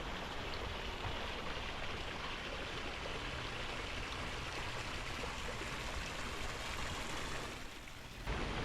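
Water flowing in a stream beside a pond, a steady, dense rushing wash that continues without a break and sounds close and full, with no talking.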